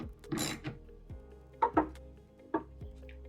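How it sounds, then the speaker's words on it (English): Working on an 84-01 Jeep Cherokee taillight, a ratchet loosens its bolts with a few distinct metallic clicks and clunks, separated by short quiet gaps. "Make sure your ratchets can loosen, and go ahead and pull all 3 bolts out located around the taillight."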